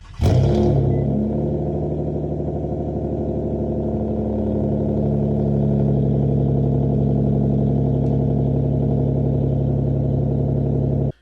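A car with a straight pipe or fart-can exhaust drones loudly and steadily close by, a continuous raspy engine rumble that starts abruptly and holds for several seconds.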